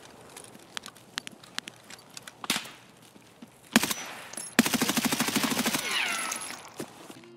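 Footsteps of a distant player in Escape From Tarkov: irregular sharp steps at first, then a loud burst and a fast, even run of impacts, ending in a rustling swell.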